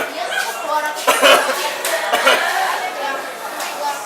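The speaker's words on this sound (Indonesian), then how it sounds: "Nah, sekarang batuk cool" A person gives a staged, deliberately stylish cough on request during a comedic behind-the-scenes shoot, with a few short bursts amid chuckling and chatter from others nearby.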